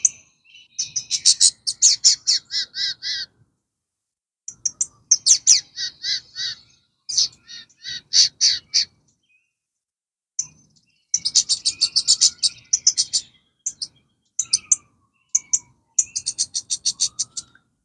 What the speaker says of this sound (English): this is sort of iconically normal Lincoln sparrow sound